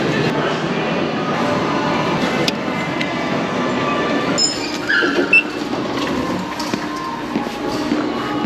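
Rumbling of an underground train in a Rome metro station, a steady low roar with metallic squeals and clicks, voices talking faintly beneath it.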